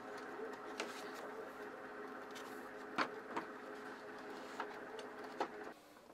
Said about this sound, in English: The paper is loaded and it's now being printed upon.